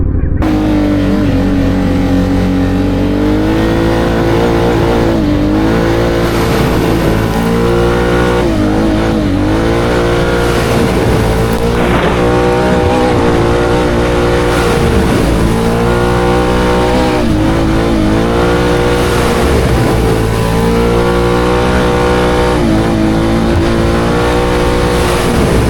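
Can-Am off-road vehicle towing a Honda, its engine loud and close, revving in repeated surges and dips over a continuous mechanical roar.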